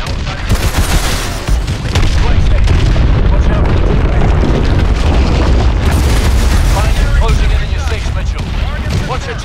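Missile strikes hit the hard points of a hydroelectric dam in Call of Duty Advanced Warfare, a loud rolling barrage of booming explosions and rumbling debris, with a voice talking over the blasts.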